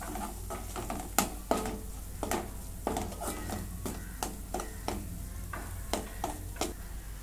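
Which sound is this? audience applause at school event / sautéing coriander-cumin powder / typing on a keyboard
sautéing coriander-cumin powder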